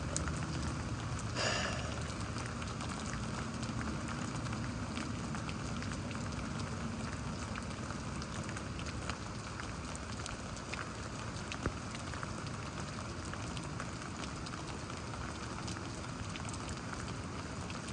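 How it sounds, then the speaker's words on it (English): Steady rain falls in Houston, Texas during a lightning storm, a dense, even hiss of drops on surfaces that continues unbroken for the whole stretch, close and moderately loud with no voices over it. "The rain kind of picked back up a bit. You can just tell by the sound"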